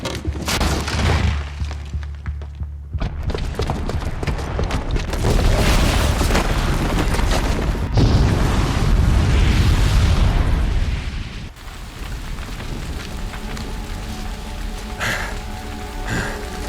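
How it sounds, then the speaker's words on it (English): A bomb booby trap explodes downstairs in Horizon Zero Dawn's Meridian, a heavy broadband roar after a brief lull, swelling into a sustained rumble of blast and falling debris before easing to a lower crackle. "Because the booby trap on the bomb downstairs is gonna get set off."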